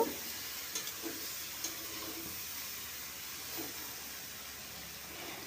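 Fried pumpkin being mixed with spices and chilli in a pan for Bengali shukto, giving a steady soft sizzling hiss with a few faint spoon clinks near the start.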